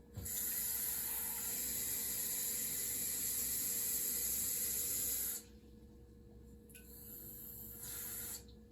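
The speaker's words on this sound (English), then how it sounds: "turn your sink on and fill it up" A kitchen sink tap runs steadily, filling a pot or measuring cup with water for angel hair pasta; a loud, even hissing gush stops after about five seconds, then a fainter trickle follows.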